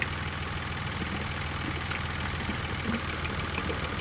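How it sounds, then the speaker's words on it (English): A hot car engine idling with a steady, even low rumble and slight mechanical vibration, continuous and close with no talking. "The engine is idling away,"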